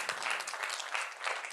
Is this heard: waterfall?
no